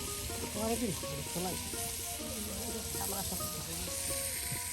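Ground cumin and ginger paste frying in hot oil for a village-style chicken curry, a dense close sizzle running throughout while people talk over it.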